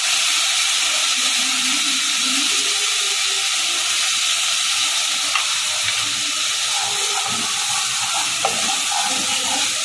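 Ginger, cumin, chili and turmeric masala fries in hot oil, a loud continuous sizzle and hiss with faint stirring scrapes, close and steady with no voices.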